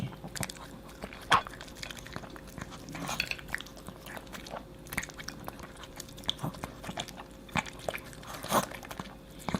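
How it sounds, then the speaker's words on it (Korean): Close by, a dog chews a homemade treat meant to ease digestion, with wet smacking bites and crunches that keep coming in an irregular run. "천천히 먹어 니치야."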